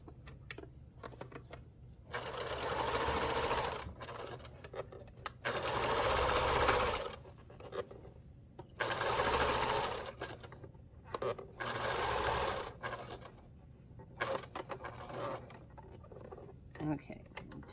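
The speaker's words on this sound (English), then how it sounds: "I'm going to sew just across my 45-degree angle" Sewing machine stitching quilt binding with an accent strip across a 45-degree angle, running in several bursts of a few seconds each with pauses between, fairly close and steady, with soft handling sounds in the gaps.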